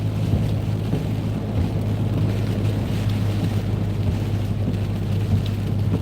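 A car drives at night through heavy rainwater and wind on UK roads between Stalybridge and Wigan, giving a steady, loud rush of water and road noise over a low engine drone that holds for the whole stretch.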